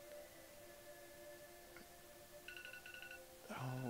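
A phone ringing faintly with sustained electronic tones and a short beeping pattern, quiet and steady, ending in a louder burst of layered tones.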